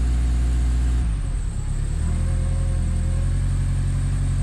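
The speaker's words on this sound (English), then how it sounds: "it's idling a little high" A car engine idling slightly high with a steady low rumble that settles after a brief change around the one-second mark, close and continuous with no talk.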